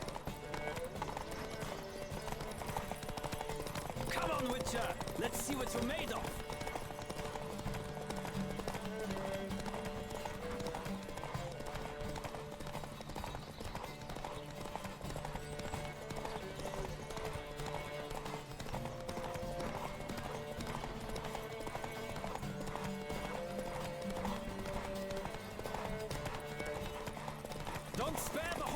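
Galloping horse hoofbeats during a horse race in the video game The Witcher 3: Wild Hunt, a steady clip-clop rhythm running throughout under game music and shouted voices, with a brief whinny.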